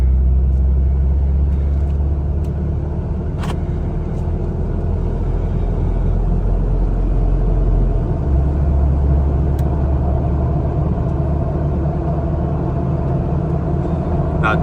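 A car on a test drive after camber correction shims were fitted gives a steady, loud low rumble of engine and road noise from inside the cabin, with a few faint clicks and knocks.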